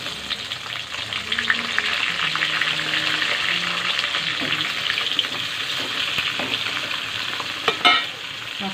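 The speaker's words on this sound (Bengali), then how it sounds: "কালো জিরে ফোড়ন দিয়ে দিলাম বেগুনগুলো তো কাটাই আছে একটু নেড়ে তেড়ে নেবো বেগুনগুলো" Eggplant pieces with black cumin seeds fry and get stirred in oil, making a loud, continuous close sizzle with soft scraping strokes and a sharp utensil clank near the finish.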